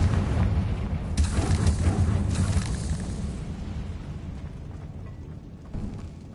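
Bombarda and Confringo spell explosions in the Hogwarts Legacy game: a loud, rumbling sequence of blasts with heavy low-end roar and sharper bursts layered over it, fading slightly toward the end.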